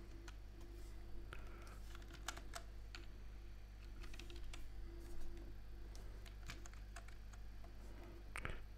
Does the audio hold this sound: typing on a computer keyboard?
yes